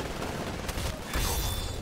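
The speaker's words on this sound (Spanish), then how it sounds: "automáticamente salen cuatro disparos" Automatic gunfire bursts from a weapon in the video game Titanfall, a dense, fairly quiet stretch of rapid shots and impacts with a heavier burst near the end, no voices over it.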